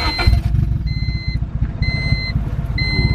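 Honda car engine running at a low idle after starting, a steady close rumble with a repeating electronic beep chiming over it.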